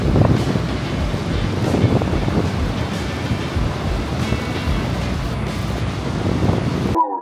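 Niagara Falls roars up close as a dense, constant rush of falling water, loud and unbroken, with wind buffeting the microphone throughout and no clear voices.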